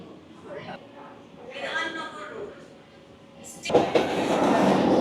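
An AC local train on the Sealdah to Ranaghat line runs steadily, a continuous rumble of wheels and carriage that swells louder near the end, with a person talking over it.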